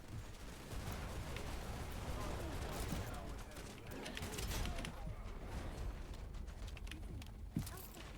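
Sustained gunfire and battle noise from the PvP video game Wild Assault, a dense continuous clatter of shots with a sharper crack near the end, under voiced game callouts.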